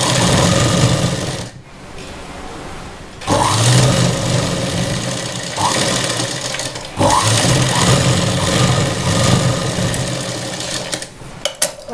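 A sewing machine runs in long bursts while stitching a fold on a blouse, its steady motor whir broken by short pauses between seams, loud and close with no talking.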